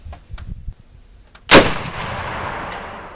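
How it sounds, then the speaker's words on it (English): A single loud gunshot from a .75 caliber Brunswick rifle fired at a target 50 yards away, a sharp close blast with a long rolling echo after faint handling clicks. "I'm going to shoot the target at 50 yards."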